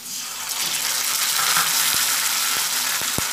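Fried potatoes sizzle loudly in a pan as poppy seed paste goes in, a dense steady frying hiss close up, with a few sharp utensil taps near the end and no talk.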